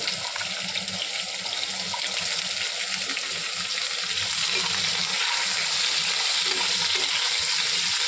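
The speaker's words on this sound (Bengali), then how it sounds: "এবার ওই একই তেলে আমি পটলগুলোকে লাল লাল করে ভেজে নেব" Pointed gourd (potol) pieces fry in oil left over from frying potatoes, giving a steady, close crackling sizzle with faint stirring and scraping that runs the whole time without any talk.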